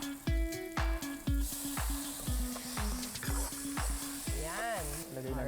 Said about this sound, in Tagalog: Igigisa muna ang bawang,